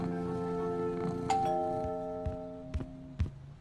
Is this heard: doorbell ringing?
yes